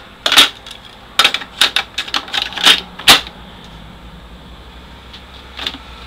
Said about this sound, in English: You go to put a tape in.